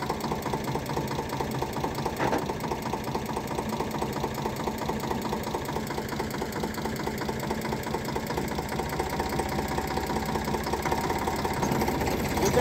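Mahindra tractor engine runs steadily with a rotavator working a field, a continuous near, knocking mechanical drone with a dense rhythmic chatter that holds level throughout.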